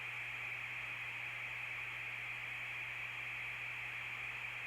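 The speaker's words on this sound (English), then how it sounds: "The white noise cadence is altered by changes in channel 3." Constant hissing white noise from an Ovilus III electronic device, with a faint low electrical hum beneath it, steady and unchanging throughout.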